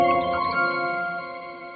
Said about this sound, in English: Then we ran it through the Eventide H90 to make it sound like this.